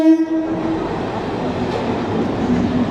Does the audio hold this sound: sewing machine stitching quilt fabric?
no